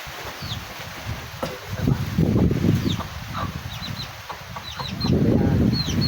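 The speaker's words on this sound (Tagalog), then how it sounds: "Ang laki na pala ng manok ko, oh." Chickens cluck and chirp close by in short bursts, with rustling movement and scattered higher peeps throughout, as a typhoon's wind picks up in the Philippines.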